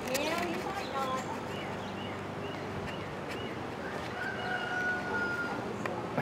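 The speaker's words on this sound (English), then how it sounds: "I hear that rooster crowing." A rooster crows in the countryside amid a busy outdoor background, its call rising over steady ambient noise and other birds, fairly close.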